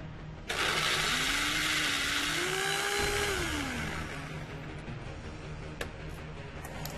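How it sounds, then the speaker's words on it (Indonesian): Electric blender grinding a batch of spice paste for chicken satay, switching on abruptly and running loud and continuous, its pitch dipping and rising as the load shifts before settling into a steady whir. "Seluruh bumbu di blender."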